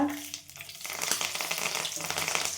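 Onion and whole spices fry in a hot pan with a steady, dense crackling sizzle, close and continuous throughout, briefly quieter at the start before swelling.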